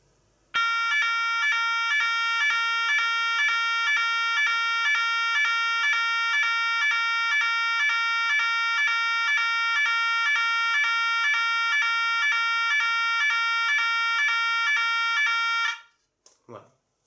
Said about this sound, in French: quand je vais tester la sirène